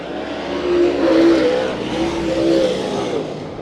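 Late model race cars roar past at Bakersfield Speedway, engines rising and falling loudly as the pack passes close by, with steady high-revving drone and no talk.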